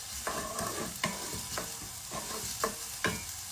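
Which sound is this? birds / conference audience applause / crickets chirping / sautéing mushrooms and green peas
sautéing mushrooms and green peas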